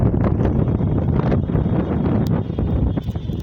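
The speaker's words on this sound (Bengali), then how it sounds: "ঝড়ো বাতাস বইতে শুরু হয়েছে" Stormy wind gusting across a rooftop under dark, cloud-covered midday skies, a steady, loud broadband roar buffeting the microphone throughout with no voices.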